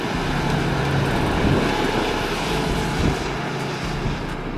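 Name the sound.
Hummer H3 3.5-liter petrol engine accelerating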